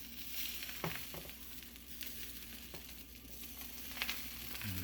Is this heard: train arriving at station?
no